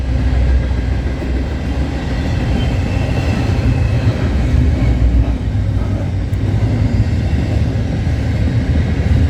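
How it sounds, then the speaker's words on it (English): A CPKC freight train out of Montreal, Quebec passes at night with a loud, continuous low rumble and grinding wheel noise that stays steady from start to finish, with no talking. "This train came out of nowhere."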